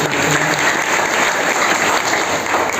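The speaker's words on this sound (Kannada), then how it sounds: "ಎಲ್ಲರಿಗೂ ನಿಮ್ಮ ಜೋರಾದ ಚಪ್ಪಾಳೆ ಮೂಲಕ ಅಭಿನಂದನೆ" An audience in a hall at a free foot pulse therapy camp gives a loud, dense round of clapping that holds steady throughout, with no voices over it.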